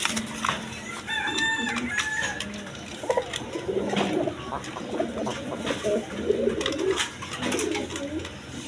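A breeding pair of pigeons for sale, cooing in repeated soft low calls, with other bird calls and someone talking intermittently over them.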